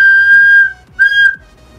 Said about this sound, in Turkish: Şöyle bir düdüğümüz var